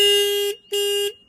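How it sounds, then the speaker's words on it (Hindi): Two sharp, shrill dual-horn honks from a 2024 Bajaj Pulsar 125cc motorcycle, each about half a second long, loud and close with a brief gap between them. "हॉर्न का आवाज़ काफ़ी तीखा है"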